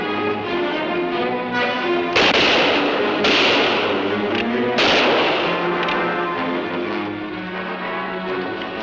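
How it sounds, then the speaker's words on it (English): Rifles fire in a film battle scene: three sharp, loud shots ring out a second or so apart over sustained orchestral music. "Use your guns. Let them have it."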